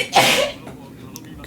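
A single sharp human sneeze bursts out near and loud, then fades into quiet room tone with a voice speaking softly over the tail.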